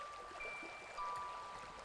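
A small forest stream trickles and babbles over stones, a soft continuous wash of water with faint splashing, steady and fairly quiet throughout.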